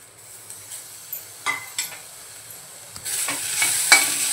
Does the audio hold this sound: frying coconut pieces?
yes